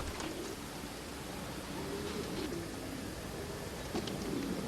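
A homing pigeon coos softly, low rolling notes repeating several times beneath a steady hiss of background noise.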